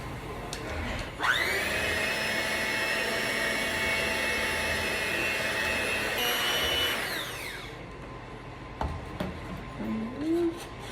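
An electric hand mixer whirs through sweet potato pie filling with a loud, even motor whine that starts abruptly, runs for about six seconds and winds down, followed by light kitchen clatter.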